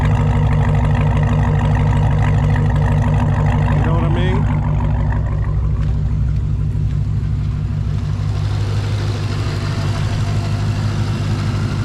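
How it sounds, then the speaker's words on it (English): A Dodge Charger Hellcat with a modified exhaust idles close by, a loud, deep, steady rumble with a lumpy pulse that continues throughout while someone talks over it. "Listen to that exhaust modification."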